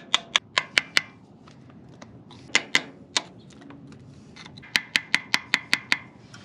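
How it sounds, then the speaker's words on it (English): Old wood chisel scraping built-up grease and dirt off an Oliver OC-3 tractor, giving a string of sharp, close scrapes and clicks in irregular bursts, with a quick rhythmic run of strokes near the end. "We're gonna see if an old wood chisel will do the trick. Oh yeah, that's removing grease nicely."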